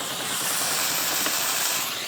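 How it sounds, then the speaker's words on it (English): Steam cleaner running in steam mode gives a loud, continuous, close hiss with an even tone and no break, without any talking. "That is the fastest steaming machine I've ever seen."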